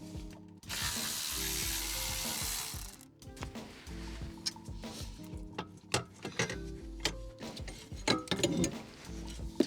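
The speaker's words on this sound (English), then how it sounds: "I'm going to unscrew the amplifier so we can lift it up and work on it a little better" A ratchet clicks in quick bursts, loosening the amplifier bolts inside a Range Rover Sport. A long whirring run at the start gives way to irregular metallic clicks and taps close at hand.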